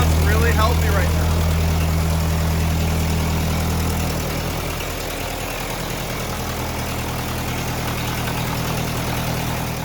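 The engine of a Ford 8N tractor idles steadily after restoration and ignition work, a low, even mechanical hum that runs throughout and shifts slightly in tone about midway.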